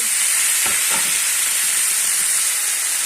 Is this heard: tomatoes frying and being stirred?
yes